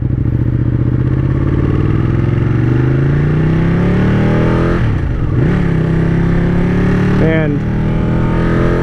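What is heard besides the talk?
Ducati 899 motorcycle being ridden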